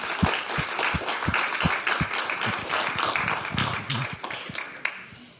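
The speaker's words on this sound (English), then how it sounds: "You can go ahead and clap." Audience at a graduation ceremony clapping, with a few distinct loud claps up front that spread into scattered, uneven applause from a modest crowd, thinning out toward the end.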